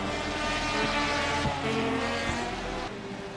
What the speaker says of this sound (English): I think it's a two-rotor, which is why it sounds like that